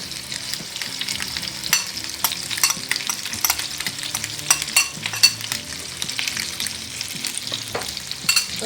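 Meatballs with vegetables, frozen dill and bay leaves sizzle in a pan while being stirred, producing soft frying hiss broken by repeated scraping and clacking strokes, close and without speech.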